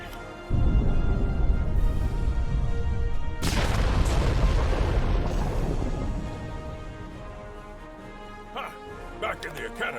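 A video-game rock-blasting explosion from Star Trek Online erupts in a loud boom, then a second heavy blast follows with rumbling debris that slowly fades, leaving sparse clattering at the end.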